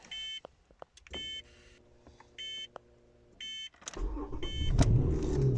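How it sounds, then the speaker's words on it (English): A car's dashboard beeps in short repeated bursts with chimes, then the engine cranks and starts, rising into a steady idle rumble near the end. "I've got to start the car."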